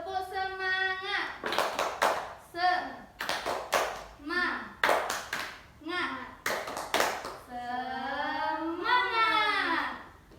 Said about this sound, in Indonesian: Yuk ikutin ibu, tepuk semangat